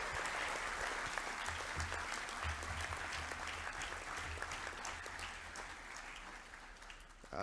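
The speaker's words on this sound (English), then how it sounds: "I'm going to just give a round of applause" Sustained round of applause from an audience at a college assembly, dense steady clapping filling the hall for several seconds before tapering slightly, no talk over it.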